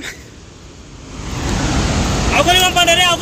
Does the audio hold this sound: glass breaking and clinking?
no